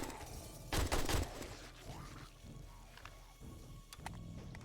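AK rifle gunfire in the survival video game 7 Days to Die during a horde night: a loud burst of rapid shots early on, followed by scattered zombie growls and game noises at lower level.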